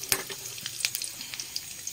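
Panch phoron spice seeds and bay leaves dropped into hot oil in a home kitchen pan for a mixed vegetable curry, giving a soft, crackling sizzle with scattered sharp pops, fairly quiet and close, no talking.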